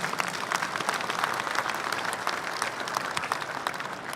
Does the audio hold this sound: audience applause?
yes